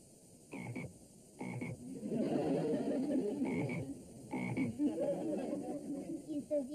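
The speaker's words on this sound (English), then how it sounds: "Well, this is my frog, Jumpin' Jack Flash." A pet frog croaking in a home, with a series of repeated throaty croaks in irregular bursts, close and fairly loud, with no talk over them.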